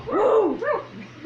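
A voice imitates a dog barking, giving two loud, close woofs in quick succession, alone, during a children's Bible-school song about Noah's ark.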